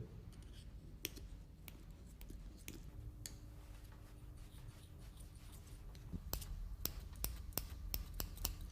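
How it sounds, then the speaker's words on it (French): Scissors snip through the abdominal wall of a specimen during a dissection, giving faint, sparse clicks over a low background hum, becoming more frequent toward the end. "Maintenant, je vais découper la paroi abdominale qui va permettre de découvrir les organes de l'appareil digestif"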